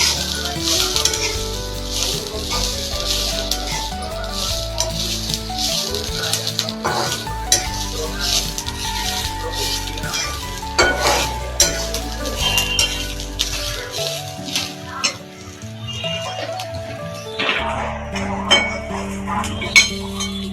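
Cumin and caraway seeds sizzle in hot oil while a spoon stirs them, with steady frying crackle and frequent metallic clinks and scrapes against the pan over twenty seconds, close and busy.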